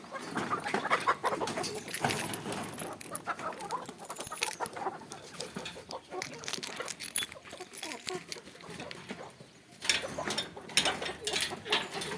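Busy farmyard chatter of chickens clucking and pattering close by, with scuffling and pecking sounds throughout, continuous and fairly loud.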